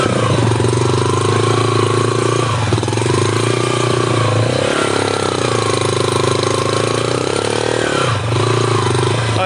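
A motorbike engine labouring loudly and close while crossing the Sindh river, its pitch rising and dipping with throttle changes in a continuous drone.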